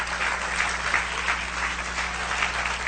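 A church congregation claps in steady, continuous applause that fills the room at moderate volume over a low constant hum.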